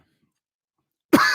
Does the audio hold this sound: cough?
yes